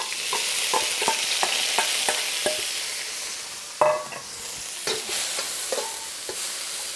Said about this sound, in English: let's go ahead and get our scallion, ginger root, and garlic all into that oil.